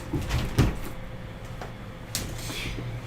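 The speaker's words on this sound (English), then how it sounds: "Gotta close the door, huh?" A door is shut in a room during an art history lecture, giving a soft thud with a second faint knock a moment later over a steady low hum.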